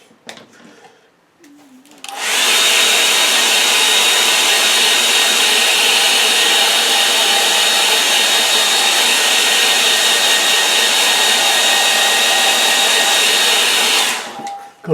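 A hair dryer drying a watercolour painting switches on with a sudden rush and blows at a loud, constant whoosh for about twelve seconds before cutting off, after a brief quiet start.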